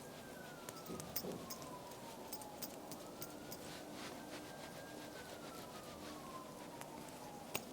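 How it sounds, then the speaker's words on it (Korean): A siren wails in the distance, its pitch sliding slowly up and down over a constant roar of passing traffic on a nearby riverside expressway, with no talking. "저런 큰 차 소리 있죠?"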